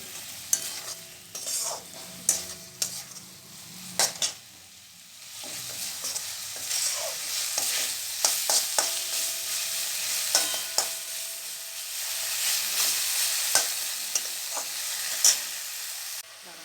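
Spice paste for a koi fish curry with cauliflower fries in a pan, a steady bright sizzle broken by sharp scrapes and knocks of a spoon as it is stirred, close and continuous with no voices.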